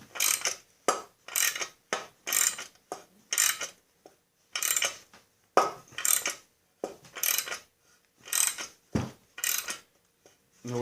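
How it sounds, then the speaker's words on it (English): Bushing being forced out of a Snapper mower drivetrain during a rebuild, giving repeated sharp popping and creaking bursts in an irregular rhythm, close and fairly loud, with no talking. "That popping noise, that's fine. That's the bushing popping its way out."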